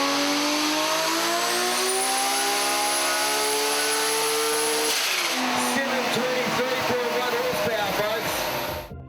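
A high-horsepower car, around 723 horsepower, does power skids on a track: a loud sustained engine wail whose pitch climbs and holds, then breaks into rough, fluctuating revving with tire noise.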